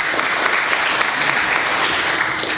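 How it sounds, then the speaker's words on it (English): A conference audience applauds at the Hungarian Academy of Sciences event, a dense, steady wash of many hands clapping that stays even and continuous throughout. "clapping."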